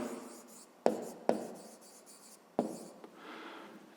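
A pen scratches across paper while writing out a fifth-grade math solution, with soft strokes and a few sharp taps, quiet and close in a still room.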